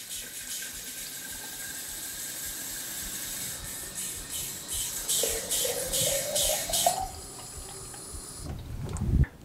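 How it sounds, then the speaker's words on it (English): A bottle holding salt is filled with water from a tap: a steady close rush of running water whose pitch climbs as the bottle fills, then the flow stops abruptly. "Now we fill the bottle with water."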